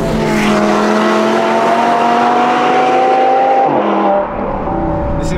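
A V10-engined Lamborghini or Audi road car screams at high revs, a loud, sustained shrill wail that shifts pitch as it passes close, with a hint of tire noise.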